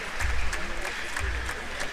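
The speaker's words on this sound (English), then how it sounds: "So put your hands together once again for Her Excellency the First Lady of Oyo State." Applause in a large hall at a university convocation ceremony, greeting the First Lady of Oyo State; sustained, steady crowd clapping that carries on for the whole stretch with no voices over it.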